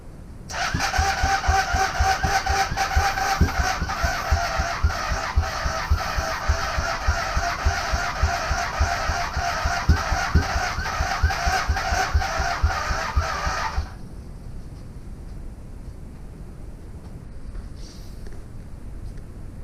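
A Honda Superdream motorcycle engine cranks without firing, a fast, even chugging of the starter for about thirteen seconds that then stops abruptly, leaving quiet background.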